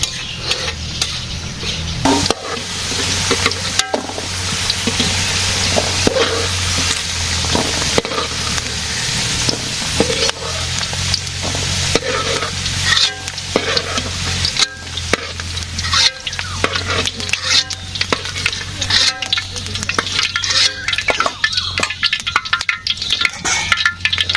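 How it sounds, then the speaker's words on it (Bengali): Potatoes fry in a pan with a loud, continuous hiss and sizzle of hot oil, close to the ear, broken by the scrape and clatter of a spatula stirring throughout. "এখন আলু ভেজে নিতেছি"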